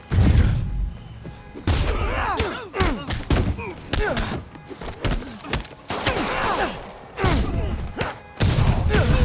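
Gunfire from criminals aimed at Spider-Man in the video game Marvel's Spider-Man, loud bursts of shots and heavy thuds arriving in repeated volleys with brief gaps between them.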